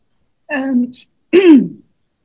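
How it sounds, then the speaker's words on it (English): Two short throaty coughs or throat clearings, close and distinct, separated by a brief pause. "Sorry, I was just coughing."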